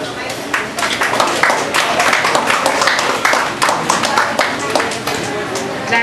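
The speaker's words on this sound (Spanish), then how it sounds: "vamos a recibirla con un fuerte aplauso" A live audience at a literary reading event breaks into sustained, dense applause, steady and loud throughout with sharp clap transients and some crowd murmur underneath.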